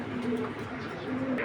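Pigeon cooing from a racing pigeon loft, low steady coos repeating a few times, fairly close, over a dense bed of other birds murmuring and fluttering, with no talk.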